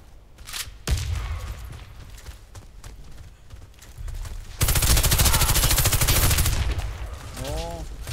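Gunfire in the shooter game Warface: a sharp shot, then a long dense burst of rapid automatic fire, loud and close, with a brief voice near the end.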